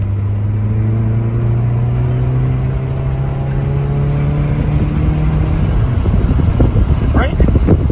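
A car engine drones with a steady low tone that climbs gradually in pitch as it accelerates during a driving lesson, heard from inside the car, then gives way to rougher rumbling and clatter at the end.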